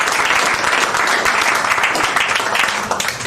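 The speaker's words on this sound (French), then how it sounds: "je vous encourage à l'applaudir" A theatre audience applauds steadily, a dense wash of clapping that holds for a few seconds before starting to fade.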